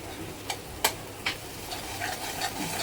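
Spices and gram flour stirred and roasted in hot oil over a medium flame for spicy Puneri misal, with a few soft scraping clicks of a spoon and a low, steady sizzle, close by and faint.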